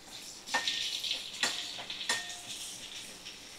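Salted pumpkin pieces fry in a pan, a close, bright sizzle punctuated by three sharp bursts as pieces are added or stirred, settling into a softer steady crackle, with no talking.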